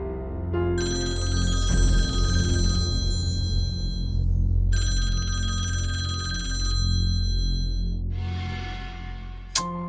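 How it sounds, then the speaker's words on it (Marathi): A mobile phone ringtone rings loudly through a home during a family meal, a steady electronic melody repeating in bursts with a short pause, under low room noise. "हे रिंग वाजते पटकन"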